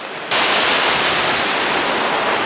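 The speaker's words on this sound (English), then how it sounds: "It's an insult to a waterfall, John." A small waterfall pouring into a pool in Eaton Canyon makes a steady, broadband white-noise rush. It cuts in abruptly at full strength and holds loud and constant, with no voices.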